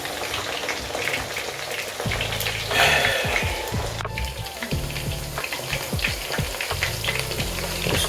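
Chicken wings fry in an uncovered double pan, crackling and sizzling steadily up close, with brief clanks and scraping of a utensil stirring partway through.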